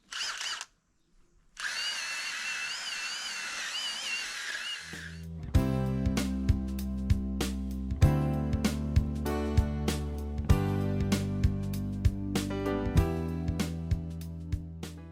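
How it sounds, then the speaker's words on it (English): An air compressor running in a carving workshop: a brief whine, then a steady humming motor with regular sharp clicks and knocks, loud and close, with no speech. "Sorry for the air compressor running."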